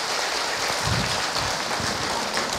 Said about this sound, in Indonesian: Tepuk tangan buat beliau yang bertanya.